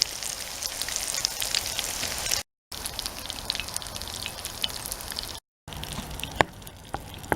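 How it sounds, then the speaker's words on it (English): Steady crackling sizzle of sweet potato pancakes frying in a pan, a dense hiss with scattered pops, continuing throughout with brief breaks. "Sizzling sound."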